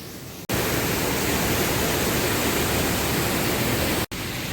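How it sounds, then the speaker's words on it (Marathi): Loud, dense rushing of stream water near a waterfall in forest near Kolhapur, a continuous broadband roar filling the clip, briefly dropping at the start and end. "अर्ध्या वाटेत आल्यानंतरच आम्हाला या पाण्याचा खळखळाट ऐकू चालू झालेला"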